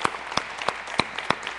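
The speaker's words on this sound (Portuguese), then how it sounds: "uma salva de palmas para eles." Members of a Brazilian church congregation clap for first-time visitors during a service: a short run of distinct, evenly spaced claps, crisp and close, about five in quick rhythm.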